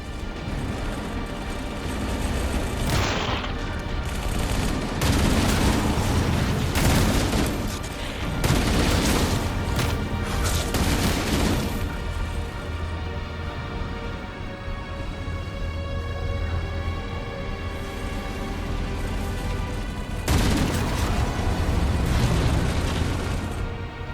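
Continuous loud gunfire and heavy explosions during a Halo battle as power conduits on a pulse generator are destroyed, with dense bursts and booms running throughout and no voices.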